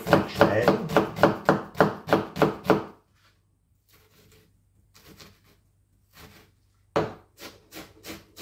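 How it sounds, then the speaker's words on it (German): Onions halved and diced into small cubes on a cutting board, a quick run of about a dozen crisp, even knife chops, a quiet pause with faint scraping, then another fast burst of chopping. "Danach werde ich die Zwiebeln halbieren und diese auch fein oder kleinwürfig schneiden."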